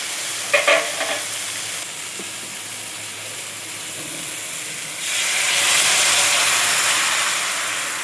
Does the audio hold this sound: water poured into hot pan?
yes